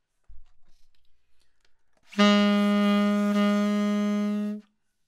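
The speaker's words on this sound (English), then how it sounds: "When you subtone, you're actually imagining an undercurrent of air going to the reed" A breathy, soft saxophone note with a subtoned, airy tone, held steadily for a couple of seconds, preceded by faint clicks.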